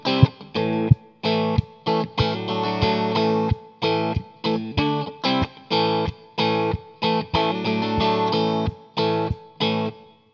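Distorted electric guitar playing the verse riff of a song at a slowed tempo: chopped, syncopated chords with crisp stops between them, loud and close with no voice over it.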